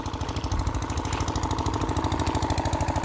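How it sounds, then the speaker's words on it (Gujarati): A motor-driven water pump runs beside a rocky river, its engine thumping in a fast, even rhythm throughout, close and steady with no speech over it. "મારું મશીન ચાલે તે બતાવી દઉં તમને"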